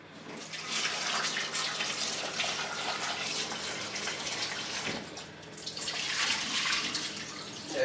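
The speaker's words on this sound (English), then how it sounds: "to rinse them off in the sink and put them onto boil" Water from a tap runs steadily into a kitchen sink while starchy food is rinsed under it, a continuous splashing rush that dips briefly and then swells again, with no talking.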